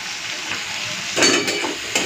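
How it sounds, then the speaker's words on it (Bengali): Taro stolons seasoned with salt and turmeric sizzle steadily in a hot pan, with a louder burst of frying and light spoon clinks as they are stirred near the end. "তো কচুরলতিতে নুন আর হলুদটা দিয়ে দিয়েছি, এরপরে একটুখানি ভাজা ভাজা করে নিচ্ছি"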